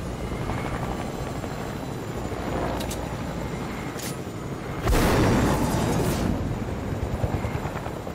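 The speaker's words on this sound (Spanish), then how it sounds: "Hay otro helicóptero ahí." A helicopter in Fortnite drones with a steady rotor hum throughout, with sharper blasts and impacts bursting over it midway, all loud and close with no talk.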